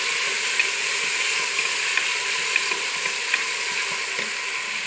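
Masala for aloo matar frying and sizzling in a pan while being stirred, a steady close hiss with a few faint scraping clicks from the spoon, no talking.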